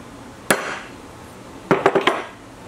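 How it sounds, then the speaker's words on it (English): A single sharp metallic strike, then after a pause a quick series of four ringing hammer blows on a hardened punch, close and crisp. "Just a hardened center punch."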